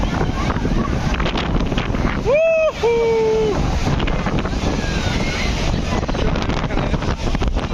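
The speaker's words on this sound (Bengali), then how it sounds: "সুকলতা বীজ বর্তমান অবস্থা অনেক ঢেউ অনেক ঢেউ" Heavy surf on the beach at Cox's Bazar rolls in as a continuous loud, rushing wash with wind buffeting the microphone, and a brief tonal whistle-like call rises midway.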